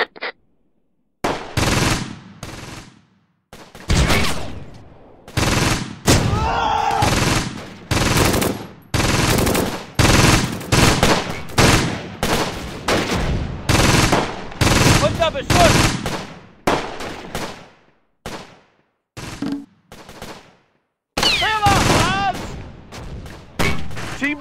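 Gunfire from the WWII video game Close Combat: loud, close machine-gun bursts and rapid volleys repeat across the stretch, broken by short silent gaps, with a final rattling burst.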